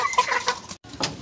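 A hen on a small backyard poultry farm gives a few short clucks in quick succession, close by, with a brief pause before a final cluck.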